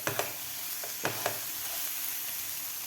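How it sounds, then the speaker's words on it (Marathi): Chopped vegetables with tomato sauce sautéed in a pan, a steady soft sizzle with a few sharp spatula taps against the pan, close and without talk. "सॉस घातल्यानंतर व्यवस्थित आपल्याला ही भाज्या 1 मिनिटभर परतून घ्यायच्या आहेत"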